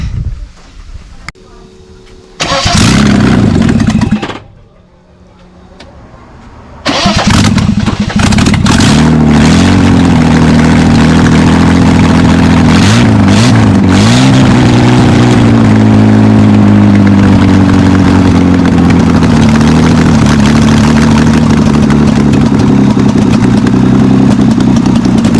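A Holden VL Commodore engine with a newly installed exhaust cranks briefly, then catches and settles into a steady, loud, slightly lumpy idle that runs close up for about twenty seconds, with a few small blips in pitch.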